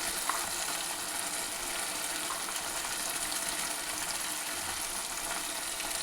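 Turmeric powder and other ground spices with garlic and dried chilli paste frying in a pan for a pea curry, a steady, even hiss of sizzling oil running throughout with no talk.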